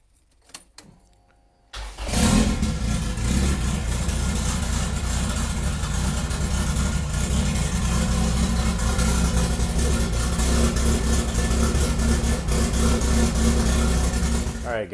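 A Honda Civic engine cranks over and catches after a brief quiet moment, then settles into a steady, loud, close idle that runs on without a break.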